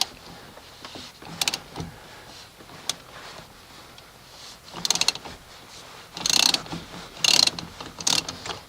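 A 14 mm socket on a ratchet working a steering wheel bolt on a 1988-1998 Chevy K1500, several short bursts of quick clicking ratchet strokes, close and clear with quiet pauses between.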